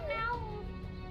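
A single drawn-out meow with a falling pitch, close and clear over a faint background hum.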